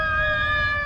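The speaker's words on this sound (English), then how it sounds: "Oh, and sirens. And sirens, just like at home." A fire truck siren wails steadily with a sustained tone, fairly loud and near, with no talking.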